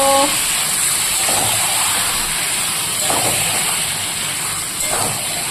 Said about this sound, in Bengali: মাংসটা ঢেলে দিলাম এবার ভালো করে মাংসটাকে আমি কষিয়ে নেব